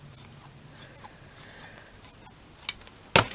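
Scissors snip through crushed velvet fabric with quiet rasping strokes, then give a couple of sharp, close cuts near the end.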